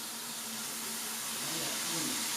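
Batter for chrust (faworki) fries in hot oil in a small pan, a continuous close, even sizzling hiss that holds steady and grows slightly louder.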